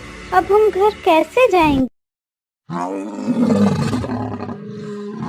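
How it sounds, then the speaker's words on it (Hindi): A cartoon lion roars loudly in a long, rough, sustained roar that follows a brief pause after a line of dialogue spoken in a Hindi animated moral story. "अरे ये क्या, ये तो शेर के दहाड़ने की आवाज है।"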